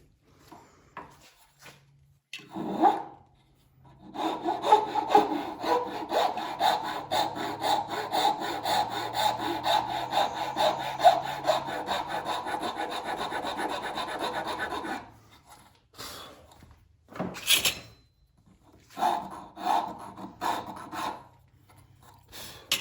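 A file rasps against wood in fast back-and-forth strokes, loud and close, forming a long continuous stretch of scraping followed by a few shorter separate passes with brief pauses between them.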